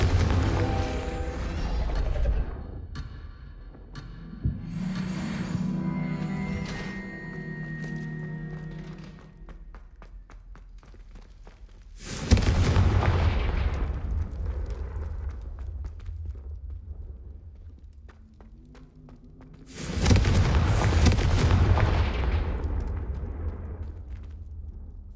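Confringo fire spells exploding in the Hogwarts Legacy video game: three loud, booming bursts, each followed by a long rumbling decay, with game sounds and tones filling the gaps between blasts.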